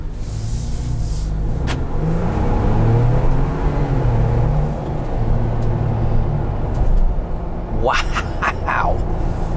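A 2021 Ford Bronco Black Diamond Sasquatch two-door with the 2.7 liter V6 and automatic transmission is driven, a steady low engine drone and road rumble inside the cabin, swelling at times, with a person talking over it.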